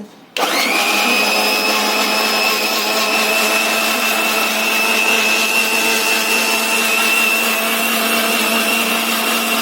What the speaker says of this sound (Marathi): आता मसाला मी मिक्सरमध्ये मी